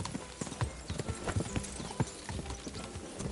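A horse's hooves clop rapidly on the ground in the medieval game Kingdom Come: Deliverance 2, a quick, uneven rhythm of close, distinct strikes.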